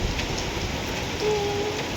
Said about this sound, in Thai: เพราะว่าฝนตกนะพี่น้องเนาะ